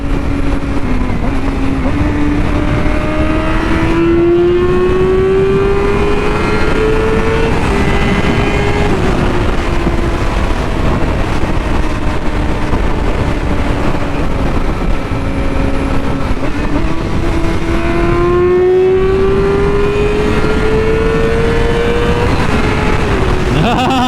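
A Yamaha R6 motorcycle and a Nissan 370Z take turns revving, with engine pitch climbing steadily and dropping back in two long sweeps over constant loud background rumble, people talking nearby.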